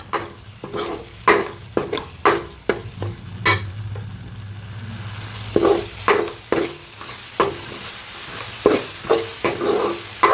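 Ginger garlic paste ground with cashews fries in a pan while a spoon scrapes and stirs it in repeated sharp clacks over a soft, steady sizzle, close and with no voices.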